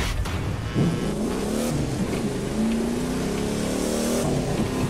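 A Plymouth car engine in the video game The Crew 2 drones and revs steadily, its pitch rising and falling in smooth sweeps, loud and continuous with no talking.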